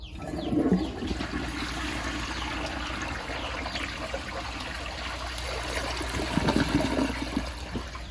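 A 1963 Briggs forward-trap toilet with a tank-to-bowl mount flushes in a steady, rushing wash of water that swells near the start and again toward the end, with faint bird calls in the background.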